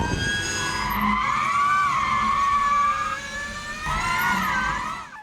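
Ford Mustang Mach-E 1400 all-electric demonstrator drifting, its tires screeching in long wavering squeals with a faint electric whine underneath, the skid easing mid-clip then swelling again.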